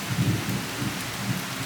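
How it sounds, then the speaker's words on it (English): Steady rain with a low thunder rumble on a morning in Portland, Jamaica, a continuous wash of rainfall over a deep rolling murmur, with no voices. "you hear that? That's thunder and rain."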